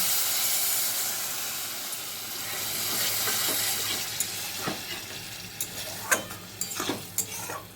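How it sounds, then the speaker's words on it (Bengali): Water poured over small fish and vegetables in a hot pan for a Bengali fish charchari, a steady loud hiss and sizzle of steam that gradually gives way to scattered crackles and pops near the mic. "এখন আমি উপর থেকে অল্প একটু জল দিয়ে দেব মাছ আর সবজিগুলো বয়েল হওয়ার জন্য।"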